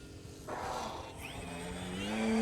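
An FMS 1400mm Pitts v2 RC plane doing a touch and go produces a steady engine whine that rises in pitch as it accelerates and passes, with a rushing swish of air.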